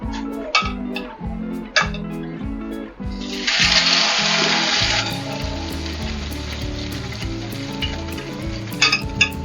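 Bread fries in a pan over medium heat, a hiss that swells loudly for a couple of seconds before fading to a softer sizzle, with a few clinks, all under steady background music.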